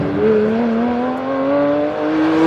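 A Porsche 911 992 GT3 RS engine hums steadily with a rising pitch as it revs smoothly, a loud continuous drone heard from close up.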